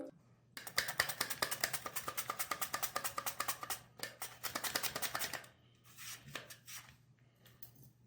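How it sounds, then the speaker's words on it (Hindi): Potatoes being sliced with a knife on a board for tandoori aloo, a quick steady run of crisp chopping taps that pauses, resumes briefly, then thins out, with faint background hum. "तमाम पोटैटो कट कर लेंगे।"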